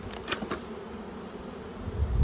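Honey bees drone around an opened, full hive box of bees and honey during a late-summer honey pull, a steady, faint buzzing hum with no voices.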